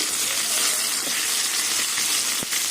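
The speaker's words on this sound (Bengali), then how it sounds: "এবার আদা রসুন আর টমেটো কিছুক্ষণ কষিয়ে নেবো" Steady hiss of onion and potato frying in a curry pan, a constant loud sizzle with a brief clatter as tomato goes in, no talk over it.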